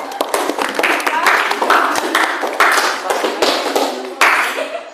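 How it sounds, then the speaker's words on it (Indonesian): Classroom clapping for a student during a lesson, a burst of many hands clapping together, fairly loud and close, with a voice talking over it. "Tepuk tangan untuk temannya."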